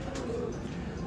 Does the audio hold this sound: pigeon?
yes